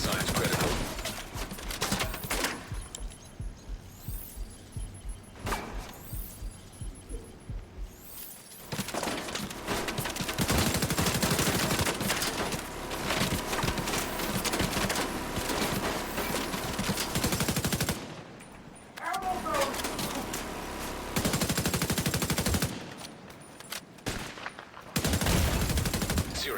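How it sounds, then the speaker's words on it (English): Sustained bursts of automatic gunfire and rapid single shots in Rainbow Six Siege, loud and dense, with brief lulls between volleys and some game voice in the background. "They're shooting multiple times."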